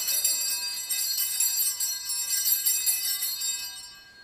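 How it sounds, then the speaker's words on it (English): An altar bell with several bells is rung by an altar server, giving a bright, shimmering cluster of ringing that sustains steadily for about four seconds and then fades. "let's ring the bell"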